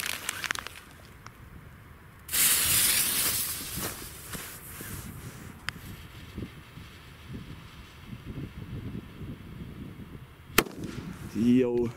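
FUNKE Honey Badgers firecrackers burst outdoors, a loud sustained crackling blast followed by scattered pops and a sharp single bang near the end, with wind noise and faint movement between.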